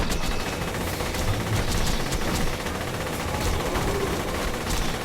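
Dense, continuous gunfire from the video game Borderlands makes a steady rattling barrage of rapid shots that sounds loud and close, with no pauses across the stretch.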